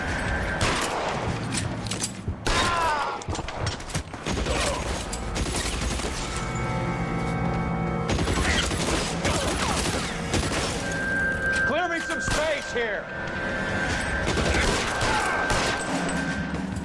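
Gunfire rings out during a shootout in the video game L.A. Noire: bursts of rapid shots and booms, some sharp and close, mixed with voices talking over the action.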